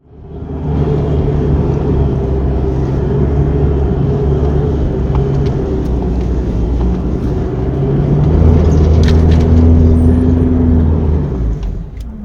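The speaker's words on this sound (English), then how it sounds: "I'll just get up this sand hill" A 4WD with its tyres let down climbs a sand hill, its engine rumbling loud and close with a steady low drone that swells and shifts pitch as it works harder near the end.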